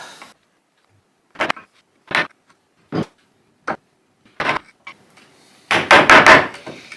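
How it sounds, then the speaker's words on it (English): Mortise chisel knocking out a broken tenon from an oak dining chair: a series of sharp, separate woody taps and strikes, close and fairly loud, ending in a quick cluster of blows; no talk. "now what I'm doing is using a mortise chisel to take out the broken tenon"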